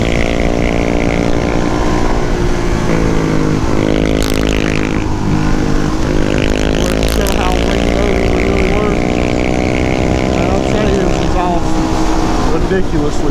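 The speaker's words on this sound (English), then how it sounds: "Probably gonna be hard to ride behind with that exhaust he's got." A supermoto motorcycle's loud exhaust roars up close, its engine pitch climbing and holding, while someone talks over the noise.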